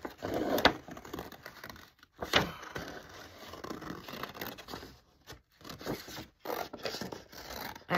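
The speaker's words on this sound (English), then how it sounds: "I like to cut out the outer edges with the scissors just because it goes easier." Scissors snip around the outer edges of handmade paper stencils, with several sharp cuts and rustling paper scrapes between them, close and clear, broken by brief pauses.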